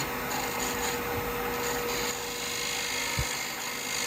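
A wood lathe spins a black locust bowl while a 3/8 detail spindle gouge cuts, giving a steady whirring hum with a faint continuous scraping hiss and a short thump near the end.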